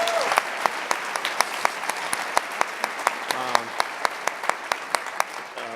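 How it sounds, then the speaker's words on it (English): An audience breaks into a steady round of applause, with a few distinct sharp claps standing out above the crowd, while someone talks briefly underneath. "can I get a round of applause for Stan Spiro"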